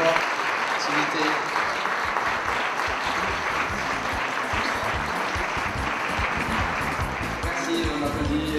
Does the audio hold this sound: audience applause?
yes